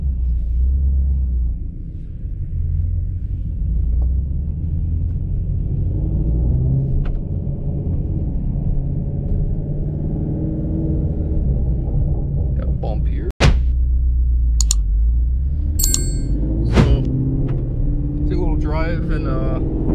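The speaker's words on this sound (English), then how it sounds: "Driving a 2018 Shelby GT350 here." Engine of a 2018 Ford Shelby GT350 with full bolt-ons, stainless headers and cats, a steady low rumble heard from the cabin while driving, with a sharp crack near the middle and brief higher noises near the end.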